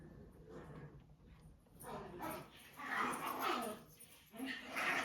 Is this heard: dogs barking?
yes